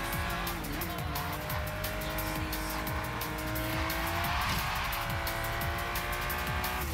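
Aston Martin V12 Zagato racing in Forza Horizon 3, its engine note sustained and climbing through gear shifts, with screeching tire squeal layered on top, loud and close throughout.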